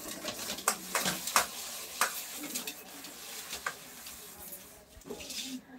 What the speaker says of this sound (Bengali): আজকে নতুন বাসন সব মাজা হচ্ছে